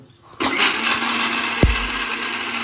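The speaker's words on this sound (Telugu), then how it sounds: "ఇప్పుడు మిక్సీ అయితే స్టార్ట్ చేసేద్దాం" A mixer grinder grinding spice paste switches on abruptly and whirs loudly and steadily, its motor hum droning on with a brief thump partway through.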